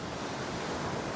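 Ocean surf on Sierra Leone's Atlantic coast rolls in a soft, continuous wash, distant and fairly faint, with wind blended through the steady roar.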